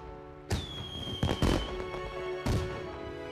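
Fireworks go off in the night sky in a period drama scene, with a few punchy bursts and crackling pops over a held musical tone, heard at a moderate distance.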